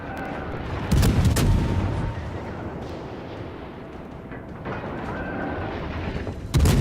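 Naval guns firing in World of Warships during a blind-fire exchange near an island, with heavy booming salvos at the start and again at the end over a constant low rumble of sea and engine noise.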